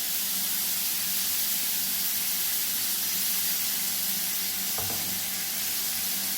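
A steak searing in a pan with garlic butter, rosemary, oregano and thyme gives off a loud, steady, close sizzle and hiss that fills the whole stretch, with a brief clink near the end and no voices.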